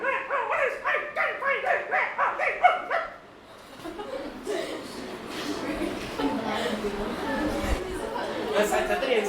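A voice imitates a dog left alone at home barking, giving about eight rhythmic yapping barks close up, then breaks into chuckling chatter.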